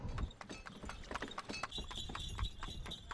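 Horse-drawn tanga clip-clopping along the streets of Lucknow, a steady, fairly quiet rhythm of hoofbeats with faint street ambience behind.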